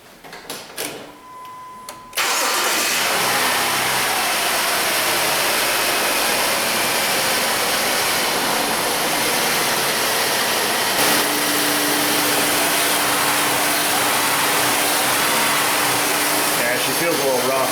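A Jeep Liberty with one cylinder misfiring after a no-start repair cranks and catches, then runs on in a loud, steady roaring idle under faint talk.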